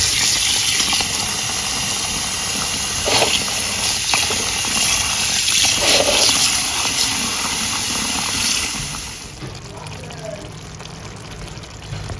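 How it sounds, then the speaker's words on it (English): Water poured over freshly boiled plantain for ampesie, a steady broadband rush and splash that runs loud for about nine seconds, then drops to a quieter trickle near the end. "Let's go and pour water on it."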